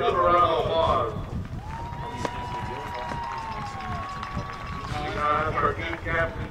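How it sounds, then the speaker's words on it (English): Stadium crowd at a sixth-grade youth football national championship game cheering and applauding in a steady, broad roar, with a sustained whistle-like tone through the middle and announcer talk at both ends. "Another round of applause."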